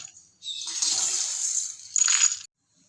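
Dry-roasted coriander seeds are tipped into a bowl in a short, close rattling pour lasting about two seconds, with a brief second burst before it stops.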